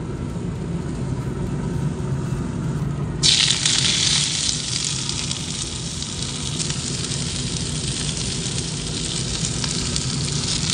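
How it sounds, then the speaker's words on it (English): Asparagus sizzling on a hot griddle with olive oil, a loud continuous hiss that suddenly grows brighter and stronger a few seconds in, over a low steady rumble. "We're gonna add a little bit of olive oil to our griddle, add our asparagus, and cook that until it's just barely charred."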